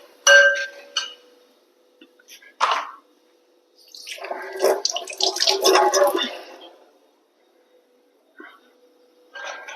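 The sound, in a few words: rinsing mixer jar and pouring the water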